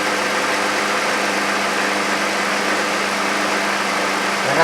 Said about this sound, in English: I gotta run the engine at 1215 RPMs.